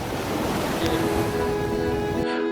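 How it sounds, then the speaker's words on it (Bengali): Sea waves break on the beach at Cox's Bazar in a loud, continuous roaring surf with wind noise, cutting off abruptly near the end. "ঢেউয়ের গর্জন"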